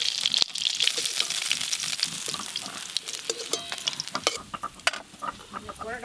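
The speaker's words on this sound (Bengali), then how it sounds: "এই যা মাছ আছে সব একসঙ্গে ভেজে নেব।" Raw pieces of shankar fish (stingray) fry in hot oil with dried and green chillies, giving a close, continuous sizzle broken by scraping stirs of a spatula in the pan, with no talking.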